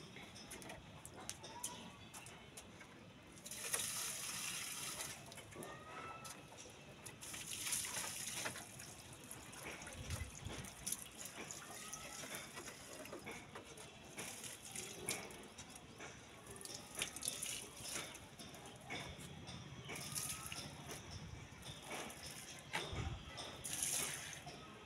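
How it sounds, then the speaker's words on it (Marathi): A young girl pours water onto plants outdoors, making faint, intermittent splashing bursts against a soft, noisy background. "चला तर आपण आता झाडांना पाणी टाकूया."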